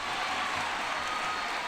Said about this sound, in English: let's give a big round of applause for the 2023 graduating class